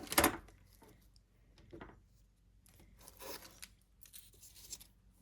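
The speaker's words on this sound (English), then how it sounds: "I'm going to cut it." Trim from a beer holder being cut, a sharp scissor snip at the start followed by faint rustling, scraping and handling noises in a quiet room.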